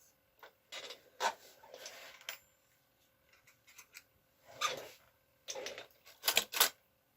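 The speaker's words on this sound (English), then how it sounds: "we need to do some circular knitting" Hand-operated knitting machine working a headband in the round, sharp clattering carriage passes and clicks in separated bursts with quiet gaps between, close by and fairly faint, no talking.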